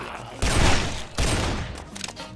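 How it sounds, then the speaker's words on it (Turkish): Heavy gunfire in the video game Guns, Gore & Cannoli, with two loud bursts of rapid shooting and a rumbling blast texture, followed by a few quieter clicks and pops near the end. "4 kişiyi falan vurdum aynı anda."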